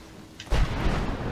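Thunder rolls in the video game Skyrim Dawnguard, a sudden low boom that swells and rumbles on for about a second.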